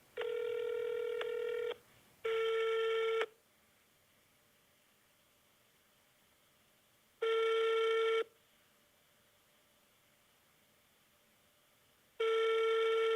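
Outgoing telephone call to a law firm: a repeating ringback tone heard as distinct bursts of about one to two seconds separated by long silent gaps, clean and electronic with no voices.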